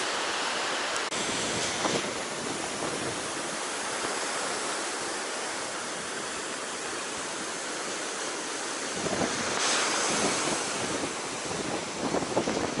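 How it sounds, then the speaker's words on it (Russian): Sea waves roll and break on a beach at Zelenogradsk with a continuous surf roar, wind buffeting the microphone, and a louder wash surging in near the end. "море сегодня приятное"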